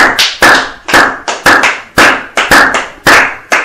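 A church congregation claps in a steady, loud rhythm after a sermon, with sharp bursts roughly twice a second and no talking.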